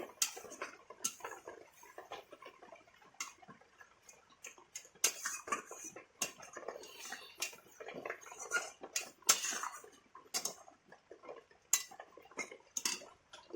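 Spoon stirring milk hilsa curry seasoned with Kashmiri chili powder in a pan, a busy run of light, irregular clicks and scrapes against the metal with no talking.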